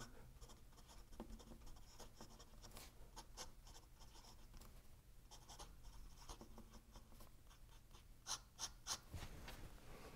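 A Sailor fountain pen with a broad special nib scratches across paper in a quiet room, a soft continuous scritching of strokes with a few sharper accents near the end.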